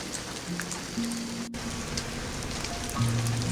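Steady rain hisses throughout a night train journey through French wine country, with soft low tonal hums underneath and one brief dropout partway through.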